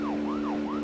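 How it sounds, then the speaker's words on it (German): A wailing siren alarm from the video game Deadly Premonition sweeps up and down in smooth, steady cycles over a constant hum. "komm hier, Sirene. Alarm!"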